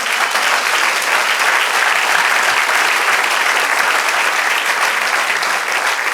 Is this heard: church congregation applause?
yes